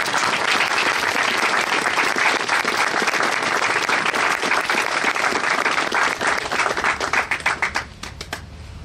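A crowd claps steadily at a groundbreaking ceremony for a sensory playground as a speaker is welcomed to the podium, loud and sustained, thinning into scattered claps near the end.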